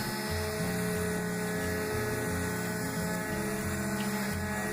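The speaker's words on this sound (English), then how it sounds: "So I'm going to go the old-timey route and sand." An electric sander whirs continuously on wood inside a shuttle bus bathroom conversion, its loud, steady motor drone shifting slightly in pitch as the tool moves across the surface.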